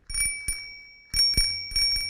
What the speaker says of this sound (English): So we got Bike bell.